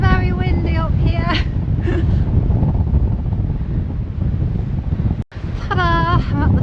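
Strong wind roars and buffets the microphone at the top of a tower, a loud continuous rush with brief voices over it.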